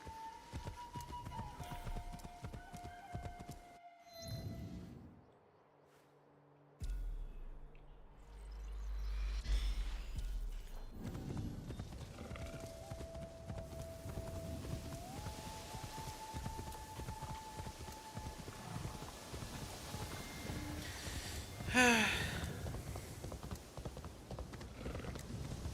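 Horse hooves clip-clop steadily as a steed is ridden in the video game Assassin's Creed Shadows, sitting moderately loud among rain-like ambience and game music, with a brief quiet drop partway through.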